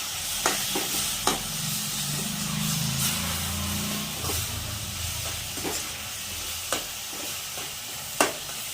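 A spoon stirs carrot halwa with cashews, almonds and raisins in a pan, with soft sizzling throughout and sharp scraping clicks against the metal every second or so, close and fairly quiet.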